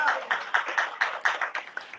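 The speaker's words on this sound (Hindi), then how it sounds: "तालियां" Congregation clapping during a Hindi-English church sermon, a steady rhythmic beat of about two claps per second, close and fairly loud, with no talking over it.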